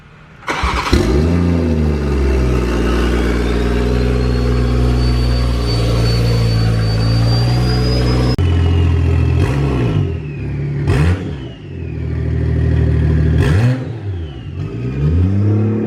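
A big-turbo 2020 Toyota Supra engine with an open downpipe starts with a sharp bark, then revs and holds high with a raw, loud exhaust roar, followed by several quick throttle blips.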